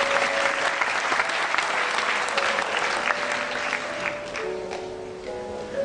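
Audience at a university matriculation ceremony in Benin applauding, a dense burst of clapping that fades toward the end as a voice begins speaking.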